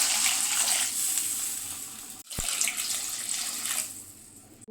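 Water pours steadily into a cooking pot of semolina for a few seconds with a brief break, then pours again and trails off, close by without talking.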